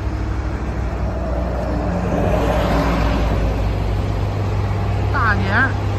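Buses and cars at an Ottawa bus shelter served by dozens of routes. A deep, steady engine idle hums under continuous nearby traffic noise, with faint voices in the background.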